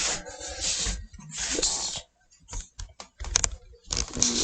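A scraper rasps over a surface being cleared of stubborn growth, in close, uneven bursts of scratchy strokes separated by short pauses.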